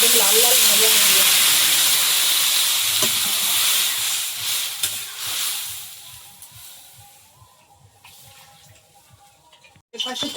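Green banana and tomato fry in hot oil with a loud steady hiss and sizzle that gradually fades to a quieter crackle, followed by a sudden clatter at the end.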